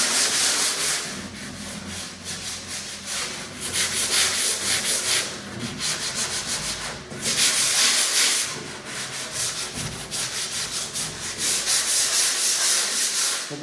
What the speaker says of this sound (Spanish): como veis es un lijado muy somero, no hace falta insistir excesivamente.